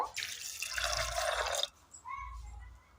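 Soaked lentils being washed in water, a loud rushing pour and splash for about a second and a half, then a quieter slosh with a few thin trickles and drips, close by and with no talking.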